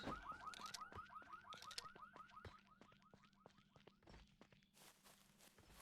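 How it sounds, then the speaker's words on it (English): An alarm goes off in a survival game, a rapid repeating warble of rising electronic chirps pulsing evenly over a low steady tone, with scattered thuds and footsteps, gradually fading toward the end. "The alarm was triggered."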